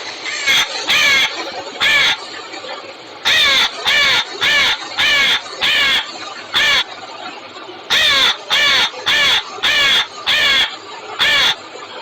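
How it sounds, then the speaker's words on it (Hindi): A crow caws repeatedly in short, harsh calls, loud and close, coming in irregular bursts of two or three with brief gaps between them. "कौवे की होती है काव काव।"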